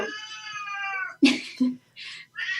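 A house cat meows close by: one long, steady, tonal cry followed by several shorter, sharper meows in quick succession, clear and fairly loud in an otherwise quiet room.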